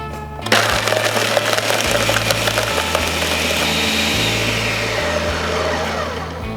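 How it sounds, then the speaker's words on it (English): Blender whirring up cocktail ingredients, starting abruptly with a loud motor drone and a rattling, grinding churn that holds steady for several seconds as the mix smooths out. "Place the top on your blender and blend or pulse until you have a nice smooth mixture."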